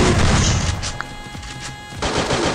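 Gunfire in a video game as a headshot lands, a loud, dense burst of crashing shots with a sharp crack near the middle, close and continuous throughout.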